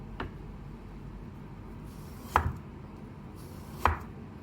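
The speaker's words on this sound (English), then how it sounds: "Aubergine is now peeled. We're gonna slice it." A knife slices through a peeled aubergine in a few quiet, separate cuts, each ending in a soft tap on the board, with low room hiss between them.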